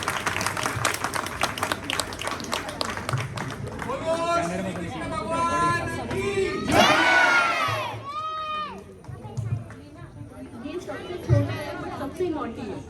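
Audience at a children's fancy dress event in a mall, clapping steadily beneath a busy hall of chatter, children's shouts and an announcer's amplified voice.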